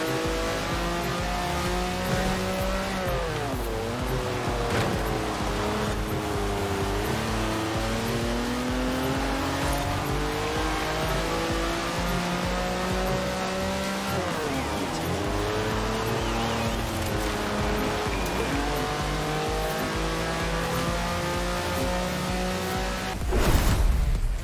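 A 1960s classic car races hard in Forza Horizon 4, its engine droning and revving continuously with rising and falling pitch sweeps as it shifts through gears, loud and steady throughout.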